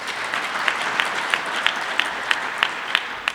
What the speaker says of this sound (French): Je demande d'applaudir pour cela.